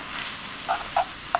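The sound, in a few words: stir-frying glass noodles with seasoning on high heat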